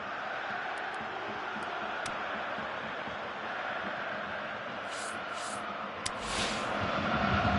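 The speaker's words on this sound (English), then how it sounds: "you can hear how the crowd are reacting to this too" Football video game crowd reacting to a missed chance, a steady, fairly quiet roar that swells slightly near the end, with a few sharp clicks over it.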